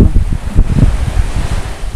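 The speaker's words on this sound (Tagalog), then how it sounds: "Sobrang lakas ng hangin dito" Strong wind buffets the microphone in low, gusty rumbles that rise and fall throughout, loud and close by a boat, with no voices.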